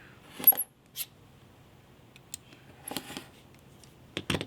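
Rotary cutter or scissors trimming a quilt block of dark fabric for a pillow, heard as a few short, crisp cutting and clicking sounds spaced apart over a quiet background, close by and with no talking.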